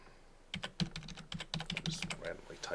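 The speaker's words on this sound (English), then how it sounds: "I'm just typing an email address." Rapid, irregular keystrokes on a computer keyboard as an email address is entered, close and fairly quiet, with clicks clustered in short bursts.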